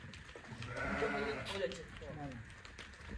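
Sheep bleat repeatedly at close range on a livestock farm with ewes and lambs, the calls overlapping in a busy flock, with people's voices in the background.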